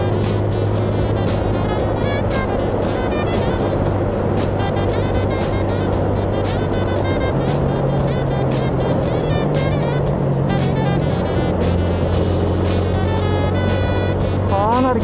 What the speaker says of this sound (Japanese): かなり風切り音が耳に来るもん。